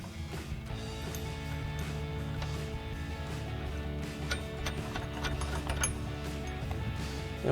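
Ratchet turning locking nuts onto mounting bolts during installation of a ReadyLIFT 4-inch SST suspension lift kit on a GMC Sierra 1500, with faint, steady ticking over a constant low hum.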